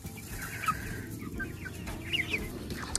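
Backyard chickens cluck softly in short, scattered calls over a steady outdoor background hum on a hot day near their coop, with no voices.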